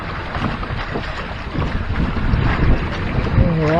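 Wind rushes steadily past the microphone aboard a trimaran sailboat under sail, with broadband hiss and low buffeting that grows slightly stronger partway through, plus a faint tonal whine near the end.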